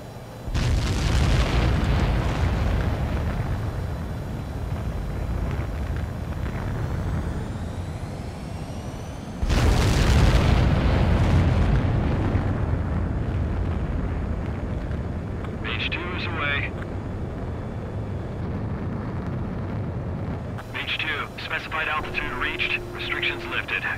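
Rafale M fighter jet launching and taking off in the combat flight game Ace Combat 7: Skies Unknown, a loud sustained engine roar that surges sharply midway, with radio voices and game effects over it.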